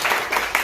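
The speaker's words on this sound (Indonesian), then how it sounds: "Berikan tepuk tangan Tuhan." Church congregation clapping, a brief burst of dense, loud applause filling the room.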